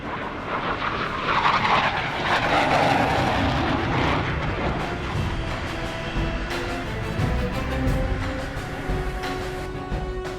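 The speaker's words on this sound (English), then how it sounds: "these F-18 pilots can't rest until they bring their aircraft safely to a stop" An F/A-18 Hornet, a twin-engine supersonic combat jet, landing on an aircraft carrier deck: a loud, steady broadband jet roar that swells slightly and holds throughout, with no voices.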